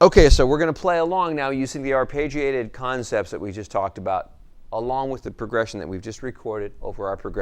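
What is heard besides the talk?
No distinct noise like a dog, phone or traffic.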